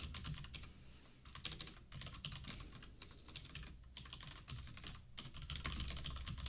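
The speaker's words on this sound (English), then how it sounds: "And as I type on this" Fingers type on a computer keyboard in quick irregular bursts of clicking keystrokes with brief gaps, close but quiet, with no talking.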